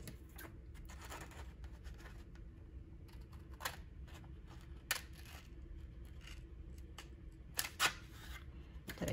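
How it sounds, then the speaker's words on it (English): Scissors cutting down the side of a paper envelope, a faint steady rasp of snipping with a few sharper clicks of the blades, close and quiet with no talk. "we're going to cut down the side here"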